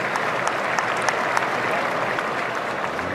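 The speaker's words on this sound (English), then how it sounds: "The fans give him a round of applause as they help him off the field." Steady applause from stadium fans at an Ole Miss versus Alabama college football game as an injured player is helped off the field, a broad continuous wash of clapping with no clear talk.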